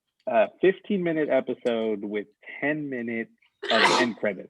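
One loud, sharp sneeze bursts out right after a person finishes talking, close to the microphone.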